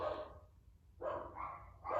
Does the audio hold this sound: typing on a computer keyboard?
no